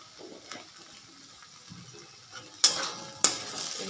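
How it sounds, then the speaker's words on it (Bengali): Banana flower curry (mocha ghonto) with garam masala and ghee stirred in a pan on a gas stove, a faint low sizzle, then two sharp loud spoon knocks near the end. "এরপরে আমি একটু নাড়িয়ে নেব।"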